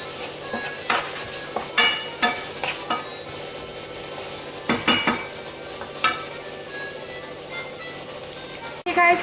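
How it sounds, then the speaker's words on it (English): Chopped onion sautéing in a pan, a steady soft sizzle broken by repeated scraping and stirring strokes at close range. "I'm going to place my onion into my pan, and we're going to let this saute"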